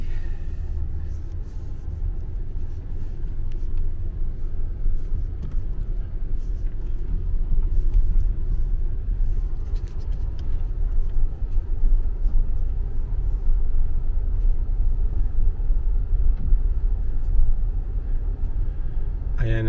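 Steady, loud low rumble of a car's interior while driving on a road, with engine and tyre noise holding constant throughout, plus faint ticks and rattles.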